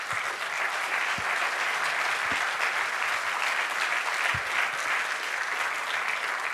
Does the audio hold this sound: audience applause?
yes